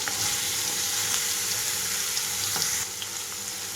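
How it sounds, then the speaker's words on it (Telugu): Ridge gourd pieces fry in hot oil in a pan, a dense continuous sizzle with faint scraping, steady and close throughout. "ఇప్పుడు ఇందులోకి కొద్దిగా ఆయిల్ తీసుకుంటున్నాను. ఇందులోకి బీరకాయ ముక్కలు మొత్తం వేసేసుకుంటున్నాను."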